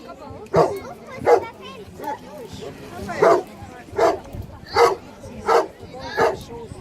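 A Newfoundland dog at a water rescue dog demonstration barking in a steady series of about eight loud, evenly spaced barks close by, with voices in the background.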